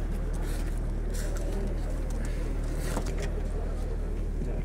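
Pigeons coo at an outdoor pigeon market in Grajewo, their soft calls blending into a constant bustle of crowd murmur, indistinct voices and a low steady hum that lasts the whole stretch without pause.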